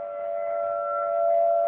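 Tornado warning siren sounding during a January test in a snowy neighborhood, a loud steady wailing tone with bright harmonics held for the whole stretch, no voices.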